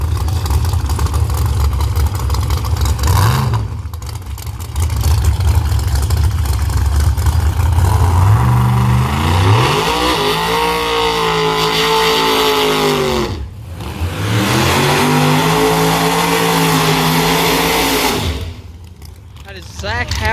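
ProMod drag racing cars at London Dragway rev loudly, with rising and falling engine pitch sweeps as they accelerate down the strip, a brief drop in the middle and near the end; engine roar dominates throughout.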